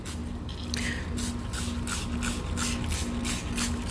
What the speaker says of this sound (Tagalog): So ngayon, ang gagawin ko ay sprayan ko na rin siya ng Epsom salt diluted in water.